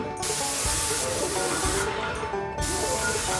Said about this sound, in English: Today's lesson is about the spray painting.